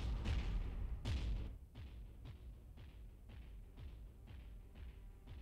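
Artillery fires in the strategy game Beyond All Reason: two heavy booming shots open, followed by a steady series of regular, softer thumping blasts roughly every half second, dense and rumbling, with no speech.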